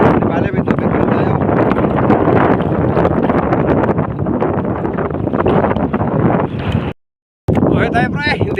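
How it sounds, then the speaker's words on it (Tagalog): Strong wind buffets the microphone on a small fishing boat at sea, a loud, continuous roaring rush with one short dropout near the end. "Surrender tayo, surrender, lakas ng hangin."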